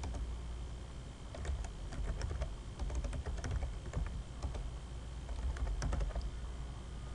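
Computer keyboard typing as code is written into a compiler editor, a steady run of light, irregular key clicks at close range over a faint low hum, no voices.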